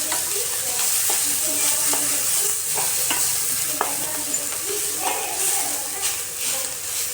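Grated carrots cooking in ghee for carrot halwa, a constant close sizzle with irregular soft scrapes and clicks of stirring scattered through it and no voices.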